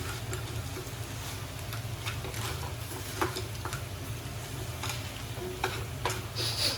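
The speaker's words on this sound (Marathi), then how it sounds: "आता आपण हे गरम मसाला घालून याला जरा एकदा थोडंसं परतून घेऊ." Crab pieces stir-fried with garam masala in a pan for a dry sukka, giving a steady close sizzle with scattered scraping and tapping from a spoon, no one talking.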